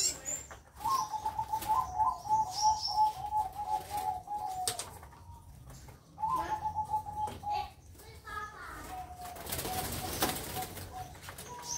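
Small house sparrows being released chirp and trill in short repeated bursts up close, with wing flutters and someone talking over them.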